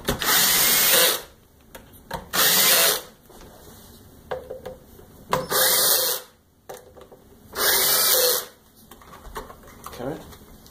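A power drill loosens screws on a Kirby Sentria II vacuum cleaner, giving four loud, close whirring bursts of about a second each, with quieter clicks and handling noise between them.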